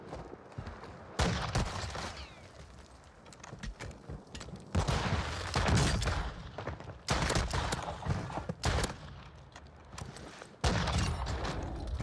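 RPK machine gun fire in a shooter game, coming as repeated loud, sustained bursts of rapid shots with brief gaps between them.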